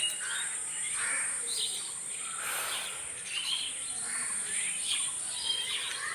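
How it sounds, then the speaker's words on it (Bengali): Birds calling at dusk, a faint scatter of repeated high chirps and twitters over a steady high insect or cricket hum, with no voices heard. "এখানে সন্ধ্যা পড়তে পড়তেই শুধু পাখিগুলোর ডাক"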